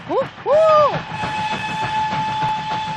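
A loud two-tone Pakistani train horn blares briefly, followed by a long, steady whistle-like tone over rumbling rail noise.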